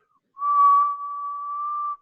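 One person whistles a single steady tone, about a second and a half long and clear against near silence, slightly wavering at the start.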